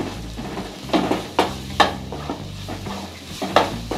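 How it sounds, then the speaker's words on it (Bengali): A spatula stirs pomfret fish curry masala in a pan with rhythmic, close scraping strokes, about six sharp sweeps over a steady sizzle of frying. "এরপর কিছুক্ষণ পর আমরা আবার এটিকে ভালো করে কষিয়ে নেব।"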